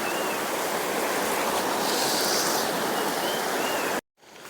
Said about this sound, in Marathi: आवाज बघा कसा येतो खळखळ